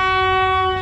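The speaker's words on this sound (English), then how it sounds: "and here comes a train" A train horn sounds steadily and loudly as a train passes close by through a slum in Bangkok, a single sustained blast.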